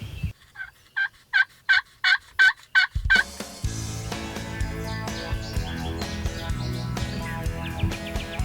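Wild turkeys gobble in a field near a hunting decoy, about eight sharp, rapid calls in a burst, loud and close, followed by a change to a steady backdrop of music or ambience with no speech.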